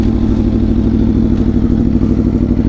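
A 2021 Aprilia Tuono V4 Factory motorcycle idling in sport mode with the exhaust baffle removed, making a loud, steady, throbbing rumble heard up close and on its own.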